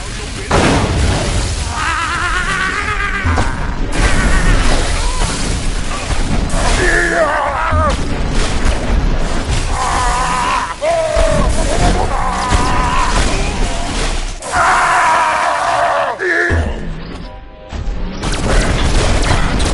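Repeated booming explosions and crashing debris from a lab being blown apart in the Destroy All Humans video game, dense and loud throughout with overlapping blasts, shattering and mechanical clatter, while voices speak over the chaos.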